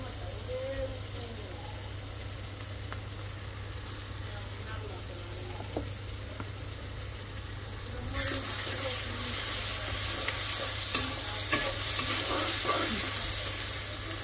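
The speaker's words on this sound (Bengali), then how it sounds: "পেঁয়াজটা একটু নরম করলাম, লবণটা দিয়ে দিচ্ছি পেঁয়াজের" Onions with salt fry in a pan, giving a soft sizzle with occasional stirring scrapes over a steady low hum, the frying growing louder and brighter in the second half.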